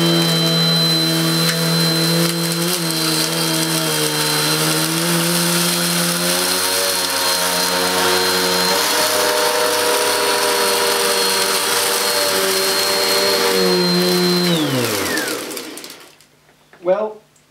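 A cheap Goblin bagless upright vacuum cleaner runs steadily and loud for about fifteen seconds with a constant motor whine, then spins down and falls silent, followed by a brief thump.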